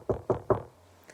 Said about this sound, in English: Cat knocked on Dog's door.